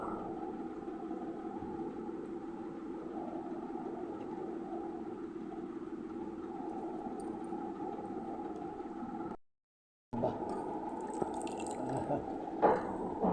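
Water pours steadily into a cooking pot while raw mango pulusu is being made, a continuous close rushing that runs about nine seconds, cuts out briefly, then resumes.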